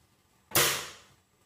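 A Webley Junior .177 smoothbore air pistol fires a single pellet: one sharp, close snap followed by a short decaying ring, with near silence before and after.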